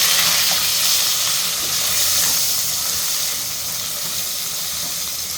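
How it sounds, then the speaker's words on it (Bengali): Beaten egg seasoned with salt and turmeric fries in hot oil, making a close, steady hiss and sizzle that stays loud and even, easing slightly toward the end, with no talking. "ডিমটা তেলের মধ্যে ভেজে নিচ্ছি"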